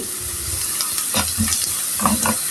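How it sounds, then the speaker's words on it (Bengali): Blended sesame seeds stirred in a hot pan for an egg curry, a steady sizzle with scraping spoon strokes, close and fairly loud, no voices. "তিল দিয়ে হালকা নেড়ে আমি একটু পানি দিয়ে দিব"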